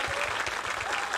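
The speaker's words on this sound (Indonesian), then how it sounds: "Tepuk tangan dulu dong." Dense applause from a live audience at a JKT48 theater show, a steady, loud wash of many hands clapping throughout the short moment, with no distinct voices on top.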